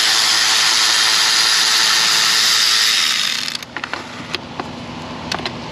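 Bolts and fasteners being removed from a Ford 5.0 Coyote engine, a steady whirring power-tool drone for about three seconds, then it stops and gives way to scattered metallic clicks and light clanks.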